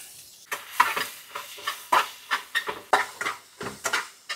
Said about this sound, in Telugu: ఈ ఎర్రగడ్డలు ఒకటి వేగినాయంటే